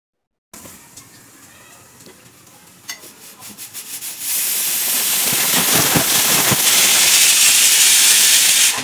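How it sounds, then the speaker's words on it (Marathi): A pressure cooker holding vegetables for pav bhaji, first a low steady hiss with rapid sputtering puffs, then a loud sustained whistling steam blast that holds until the end. "आता कुकरचं झाकण लावते आणि भाज्या त्याच्यात 3 शिट्ट्या करून घेते."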